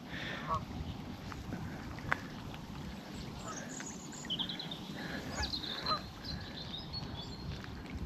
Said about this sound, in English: Just the sound of the birds,